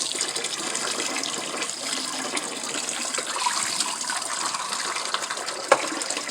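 Warm tap water runs steadily to rinse out a parrot's food dish, a continuous close hiss and splash with one small clunk near the end and no talking.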